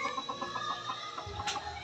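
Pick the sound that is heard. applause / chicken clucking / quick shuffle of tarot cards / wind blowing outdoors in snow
chicken clucking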